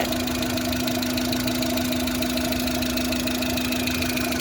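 A 2004 Maruti Suzuki Wagon R VXi LPG car engine idles steadily with a constant low hum and a rough, rhythmic knocking running evenly throughout, close and fairly loud.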